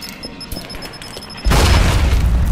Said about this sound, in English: Kind of got caught in that explosion.